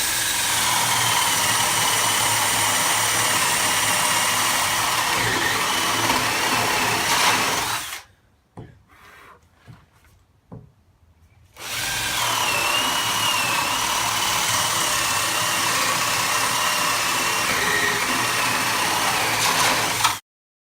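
A RYOBI drill bores 5/8 inch holes with a loud, high whining drive that runs continuously for several seconds, drops to a brief near-silence with a few faint clicks, then resumes at full strength until it abruptly stops.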